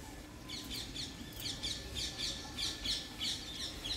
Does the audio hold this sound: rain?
no